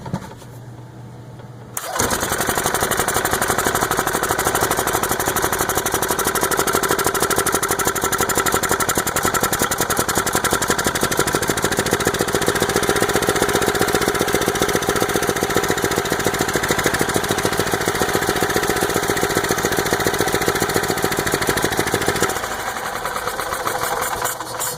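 A Yamaha G2 golf cart engine, which runs poorly and floods with fuel, starts after a brief quiet moment and runs with a loud, steady, buzzing clatter for about twenty seconds, then drops back to a lower idle.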